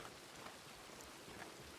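Steady rain falling in Red Dead Redemption 2, a soft, even hiss of drops on surfaces, faint and continuous with no voices over it.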